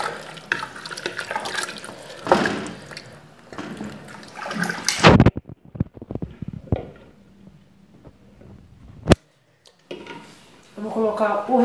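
Water poured into a pot of cooking soup on the stove, a splashing, running pour heard in bursts between stretches of talk and kitchen clatter, fairly close and moderately loud.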